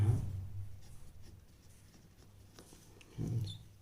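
A pen scratches on paper while working a Class 10 linear equations problem, with short bursts of writing at the start and end separated by a quiet stretch.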